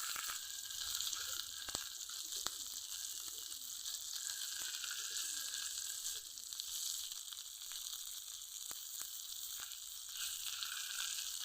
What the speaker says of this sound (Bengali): কাবাবগুলো ভাজা হয়ে গেছে